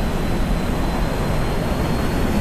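A jet aircraft engine roars in the DCS World flight simulator during a tunnel-run skill competition, a loud, steady, broadband rumble that holds without a break and has no voices over it.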